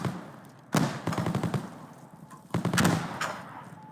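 A pistol fires during a run in a video game, giving two loud bursts of rapid shots, each a quick string of sharp cracks, separated by a quieter gap.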